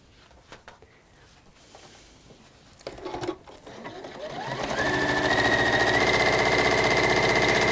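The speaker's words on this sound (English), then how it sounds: "what I am going to do now is sew with 1/4 inch around there" A sewing machine stitches fabric with a quarter-inch seam, starting after a few handling clicks and rising into a loud, steady rapid whirring run near the microphone.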